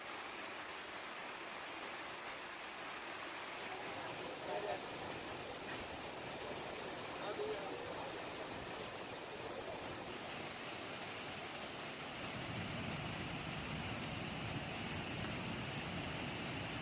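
Huai Mae Sai waterfall in Chiang Rai, a steady broadband rush of falling water that stays faint and even throughout, with no voices.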